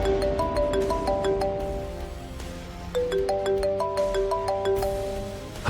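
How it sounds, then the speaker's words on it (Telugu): A phone plays a melodic video call ringtone, bright repeating electronic tones in two phrases, fairly loud and close with no talking over it. "ఆ నరసింహ వీడియో కాల్ చేస్తున్నాడు"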